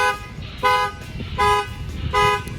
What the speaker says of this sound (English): That will set off the alarm.